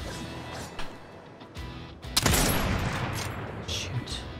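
Gunfire rattles in a battle royale video game, beginning with scattered muffled shots before a sharp crack sets off a dense, sustained burst of firing.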